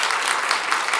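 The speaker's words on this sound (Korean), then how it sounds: "박수." Dense, continuous applause rises from a church congregation right after an infant baptism at a Sunday worship service, a full wash of many hands clapping loudly and close, with no speech over it.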